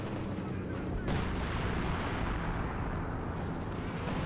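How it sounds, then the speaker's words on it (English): German artillery fire in the Company of Heroes 2 strategy game: a sharp blast followed by rolling, rumbling detonations and crackling impacts under sustained battlefield noise. "Oh, German artillery in this position."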